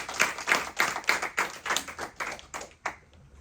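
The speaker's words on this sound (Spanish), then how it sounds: "Denle un aplauso a Cristo." Roughly ten rhythmic hand claps sound at a church service in honor of Christ, fairly close and moderate in volume, with a steady beat that slows and fades at the end.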